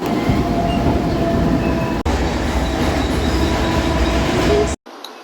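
A Mumbai local train running from CSMT toward Bandra sends out a loud, steady rumble and rattle of wheels and carriages from close by, with a brief drop just before it cuts off at the end.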